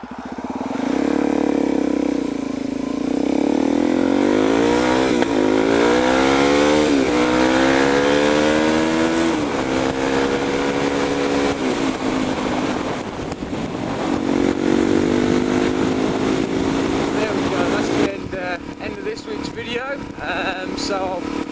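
Onboard ride on a Suzuki DRZ400SM supermoto, its single-cylinder engine loud and close, revving up through gears in repeated rising sweeps, dropping and climbing again over steady wind roar.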